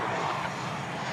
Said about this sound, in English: they're being joined now by this Airbus A319, American Airlines, going to San Antonio,